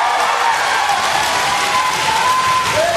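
Passionate crowd applauding and cheering at a taekwondo match in Manchester, a steady loud roar of clapping that fills the whole stretch without pause.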